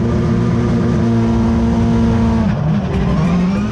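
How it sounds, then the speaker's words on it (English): Subaru rallycross cars launching off the start line at an ARX race in Austin, Texas: loud, continuous engine roar with rising revs, a sharp gear change and pitch swing near the end, close and sustained throughout. "Off the line, the blue and the red Subarus need to force Arpin into the Joker."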